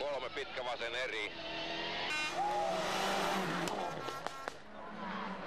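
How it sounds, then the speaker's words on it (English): A Mitsubishi rally car runs a tarmac stage at the 1997 Rally Catalunya, its engine revving up and down through gear changes with brief tire squeal, heard near and loud against crowd and background noise. "Tommy Mackinnon's Mitsubishi led the cars into the first of the rally's 18 stages"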